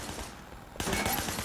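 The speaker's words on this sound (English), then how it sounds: "Shooting at the guys over there. There was a shooter, firing shots from the passenger window." Gunfire in the video game Sleeping Dogs erupts as a dense burst of rapid shots, loud and close, following a quieter stretch of ambient noise.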